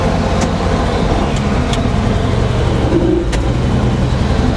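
A 1948 Chevrolet engine pulls steadily in second gear, a loud, continuous, close mid-pitched drone that stays even throughout, with no talking.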